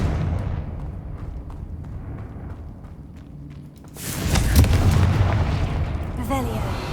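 The Confringo blasting spell bursts into a loud fiery explosion in Hogwarts Legacy, a sudden roaring boom that swells and lingers after a quieter stretch of footsteps and ambient rumble, with a voice heard calling out.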